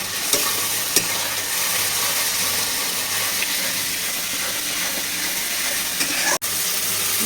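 Potatoes frying with spices in a pan for a chhanar dalna, a steady loud sizzle close up with faint stirring taps and a sharp clink near the end.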